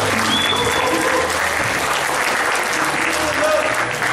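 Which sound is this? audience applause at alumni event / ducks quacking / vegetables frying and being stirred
audience applause at alumni event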